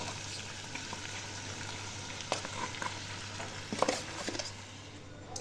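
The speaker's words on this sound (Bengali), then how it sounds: "এবার আমি এটা মাংসটাকে নাড়া দেব।" Meat fries in a small cooking pot, a steady soft sizzle with a few clinks and scrapes from stirring near the end, close and without talk.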